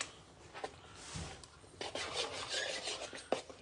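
Pizza dough ingredients, water and flour, are stirred in a mixer bowl with soft, scraping rubs and brief gritty strokes, close and fairly quiet, with a couple of light knocks.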